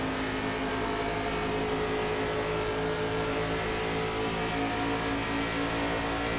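Race car engine droning loudly and steadily throughout in iRacing, an ARCA Series NASCAR race at Atlanta, a constant high-revving roar with no clear pass-by swell.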